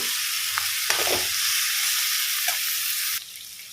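Masala and cumin fry in a pan for a fish curry, giving a loud, dense sizzle with a few faint stirring knocks. The hiss drops noticeably in volume near the end, and no one speaks.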